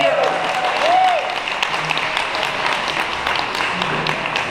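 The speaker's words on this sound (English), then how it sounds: "I want you guys to give yourselves a round of applause" Seated audience at a negotiation seminar applauding themselves, a steady, dense wash of clapping that fills the room for several seconds, with a brief whistle near the start and faint voices mixed in.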